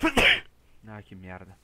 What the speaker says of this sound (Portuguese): Ah, vou ter que espirrar, velho.